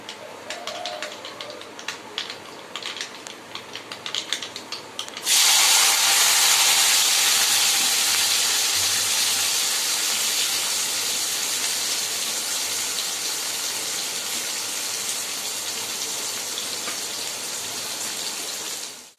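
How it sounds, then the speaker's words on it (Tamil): Mustard seeds spluttering in hot oil while tempering a kuzhambu, a loud continuous hissing crackle that bursts in suddenly and holds steady close up, preceded by quieter pops and faint kitchen noise. "எண்ணெய் காஞ்சோடனே கடுகு போட்டுக்கலாம்"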